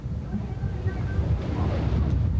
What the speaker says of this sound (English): You see how these waves are breaking?